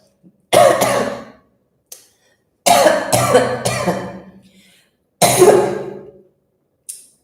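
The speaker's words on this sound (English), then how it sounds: "that cough that I just did" Three loud, harsh coughing fits close to the microphone, separated by silence, with a faint short rasp between them.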